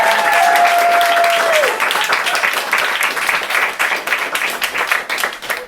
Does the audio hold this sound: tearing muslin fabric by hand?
no